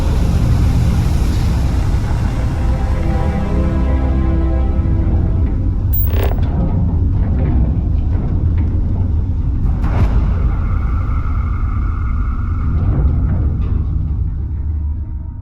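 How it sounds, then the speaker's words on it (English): Spaceship engines in the video game Starfield give a loud, continuous low rumble that thins out toward the end, with a couple of brief higher whooshes and clicks on top and no voices. "Switching over to standard engines."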